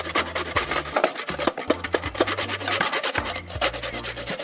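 A coconut is scraped against a grater in short, rhythmic rasping strokes with brief pauses between bursts, close and fairly loud, with no voices.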